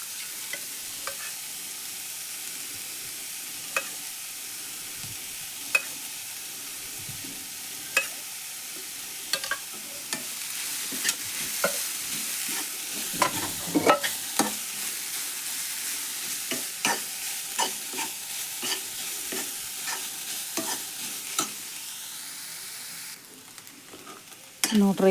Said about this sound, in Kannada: ಇದಕ್ಕೆ ಇನ್ನೂ ಸ್ವಲ್ಪ ತುಪ್ಪ ಹಾಕೋತೀನಿ ರೀ ನಾನು